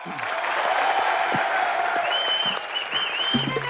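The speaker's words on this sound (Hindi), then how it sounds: "सीनियर मोस्ट अंकल जी के लिए श्याम दादा के लिए जोरदार तालियां।" A comedy show studio audience claps in a dense, steady wave of applause with a few whistles and cheers mixed in, fading slightly toward the end as a voice briefly cuts in.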